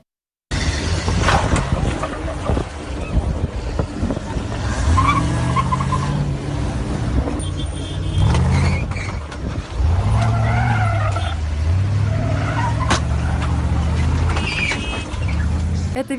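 Wedding convoy cars race and skid along a road in the rural settlement of Surkhakhi, with engines revving hard and tires screeching in repeated bursts over sixteen seconds, loud and close.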